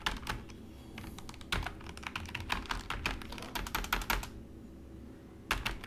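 Rapid clacking keystrokes on a computer keyboard while code is typed, close and crisp in bursts of quick taps, pausing briefly near the end before a final few strokes.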